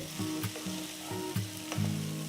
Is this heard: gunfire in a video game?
no